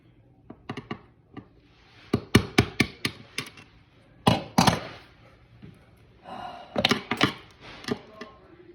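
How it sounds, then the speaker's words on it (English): Grout being chiseled out of a kitchen electrical outlet box set in tile, with sharp metallic taps and knocks that come singly and then in quick bursts, close and fairly loud with pauses between; a faint sigh is heard. "Chisel out some of this grout without breaking the tile off."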